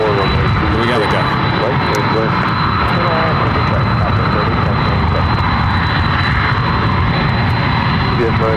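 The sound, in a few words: jet aircraft at Ontario airport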